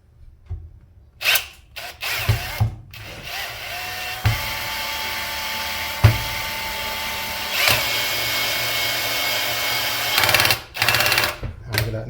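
A Bosch 18V cordless drill set to low speed and low clutch whirs steadily as it gently drives a small screw, with the motor note rising and a few clutch clicks, bracketed by handling noise and light voices.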